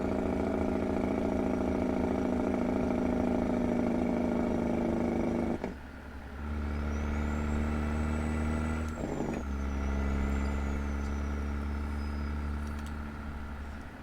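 A heavy truck engine drones steadily with a deep, rumbling engine-brake tone on second stage going downhill, briefly dropping and resuming, with a faint high whine above.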